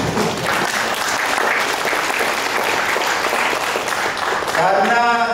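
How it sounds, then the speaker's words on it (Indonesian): Crowd at a campaign team inauguration event applauding in a loud, continuous wash of clapping for several seconds, with a speaker's voice resuming near the end. "boleh tepuk tangan."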